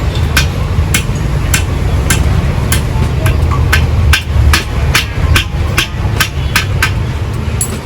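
Hammer strikes on a nut at a leaf spring lock on an Isuzu V-Cross pickup, a steady run of sharp metallic blows about every half second, close and loud over a constant low workshop rumble.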